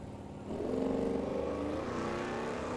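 Engines of a 1970 Camaro and a 1974 Nova at a drag strip start loud at about half a second and hold a rising, rasping note to the end, heard from trackside without talk.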